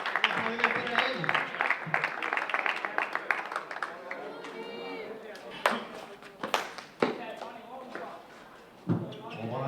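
Spectators at a juvenile pilota street ball match during Beniflà's town festival clap in quick, uneven bursts, mixed with close talk and sharp ball-like knocks.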